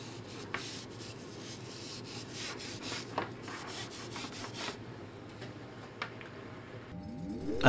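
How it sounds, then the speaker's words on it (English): A wire wheel scrubs a metal part from a Lucas 16W wiper motor off a Triumph TR7, giving a quiet, close, gritty rubbing with short scraping bursts and small knocks. "And then it's back on the wire wheel again."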